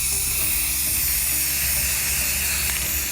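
A water dispenser lid gets a second coat of spray paint, a steady close, loud hiss running unbroken and alone throughout.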